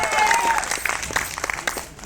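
Applause and cheering from an audience at a stage event celebrating Krishna Janmashtami, a dense crowd wash with scattered claps, a whistle or cheer rising over it early on.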